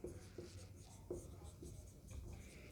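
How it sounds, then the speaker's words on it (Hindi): A teacher writing on a board, with several quiet, short strokes and taps in an irregular rhythm against faint room noise. "लिखते हैं हम यहाँ पे बाउंड्री"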